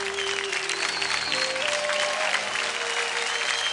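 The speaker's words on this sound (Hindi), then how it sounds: "जोरदार तालियां हो जाए पृथ्वी और विवेक के लिए" Studio audience applause at a televised Indian dance competition show, steady dense clapping filling the space throughout with a faint musical tone underneath.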